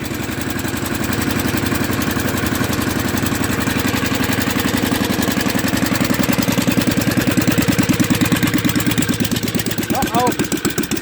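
A John Deere Gator idles close by after a frame repair, a loud, fast, steady engine putter that slightly shifts in pitch near the end, with a voice speaking over it.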